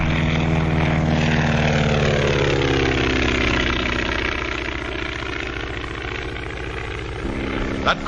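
A steady drone of stunt airplane engines flying Immelman turns, pitch sweeping down and then rising again as the aircraft maneuver, with a brief knock near the end.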